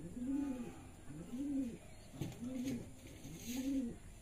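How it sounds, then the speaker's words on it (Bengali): A male Rajshahi Giribaj pigeon coos close by, four rolling, throaty coos repeating at an even pace of about one per second, with faint background noise and no talk. "এটা আমার একটা রাজশাহী গিরিবাজ নিচ খেলের নর কবুতর"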